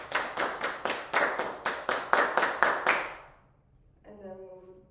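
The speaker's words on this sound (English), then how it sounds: "And then we'll do the clapping again." Violin warm-up class clapping together in a steady rhythm, about a dozen crisp, evenly spaced group claps that fade out, followed by a brief voice.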